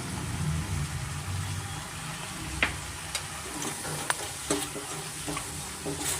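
A spoon stirs Kashmiri chili powder into potato and fenugreek curry frying in a pan, giving a steady close sizzle with a few sharp scrapes and knocks against the pan.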